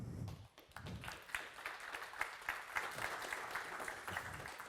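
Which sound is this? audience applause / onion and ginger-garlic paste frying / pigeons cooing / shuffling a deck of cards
audience applause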